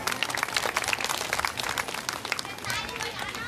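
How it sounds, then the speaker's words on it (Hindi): A crowd at a Bhagavat katha gathering in Noida clapping for the Mother goddess, a busy, continuous patter of many hands, moderately quiet and somewhat distant, with voices mixed in underneath. "हाँ, कि माता के लिए ताली बजा।"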